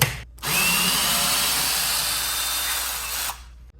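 A power drill backs a screw out of a wall mount in one steady, close whir lasting about three seconds, with no voices over it.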